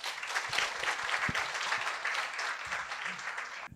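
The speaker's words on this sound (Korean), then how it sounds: "박수로 모시겠습니다" An audience at a 60th-anniversary celebration claps steadily for several seconds, a fairly quiet, dense patter of hands that fades out near the end.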